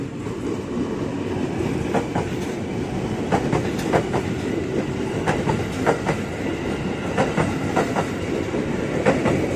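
An ex-Tokyo Metro ten-car KRL commuter train bound for Bogor passing a level crossing at night: continuous loud rumble with rhythmic clickety-clack of wheels over rail joints, close and sustained throughout.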